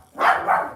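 Dogs in a home bark in a quick pair of yaps, close and fairly loud, lasting under a second with nothing else around them.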